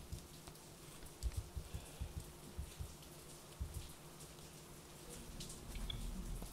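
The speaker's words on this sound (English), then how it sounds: "It's raining." Steady rain falls in the mountains of the survival game Hurtworld, a dense hiss with scattered low thumps and drops, moderately close and swelling slightly toward the end.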